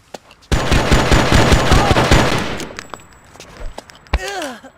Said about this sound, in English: There's a sniper over there who just tried to shoot me.